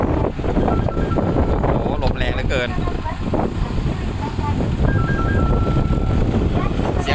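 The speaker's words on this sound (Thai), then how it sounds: "ลมค่อนข้างแรงครับ" Strong wind buffets the microphone in a constant heavy roar while someone talks over it and traffic rumbles beneath.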